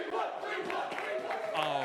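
A crowd at a collegiate League of Legends rivalry match between Ohio State and Michigan roars and chants, a dense, fairly distant wall of shouting voices with pulsing swells and no clear individual words.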